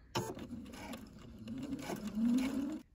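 Sewing machine fitted with a zipper foot, needle shifted left, stitching through a lace bodice side seam between pinned layers, running in a steady continuous hum that builds slightly louder toward the end.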